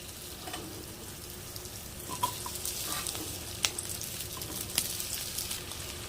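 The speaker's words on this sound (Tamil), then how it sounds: "எண்ணெய் நல்லா சூடாயிடுச்சு நம்ம கட் பண்ணி வச்சுருக்கிற வெண்டைக்காய் இதில் ஆட் பண்ணிக்கலாம்" Sliced okra fries in hot oil in a pan for a Punjabi-style bhindi dish, a steady close sizzle throughout with a few sharp crackles and pops, and no voices.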